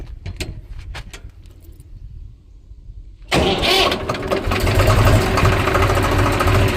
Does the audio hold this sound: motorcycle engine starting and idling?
yes